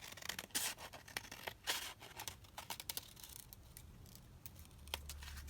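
Scissors trimming papercraft pieces, a quick run of close, crisp snips and paper rustles that thins out into scattered quieter cuts, with a low hum at the end.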